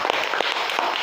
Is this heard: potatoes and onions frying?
no